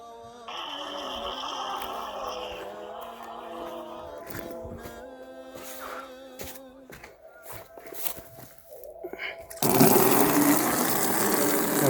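Water from a newly installed village supply line at Al-Karam in Arish, North Sinai, with mixed clatter and splashing that breaks into a loud, steady rush of gushing flow near the end.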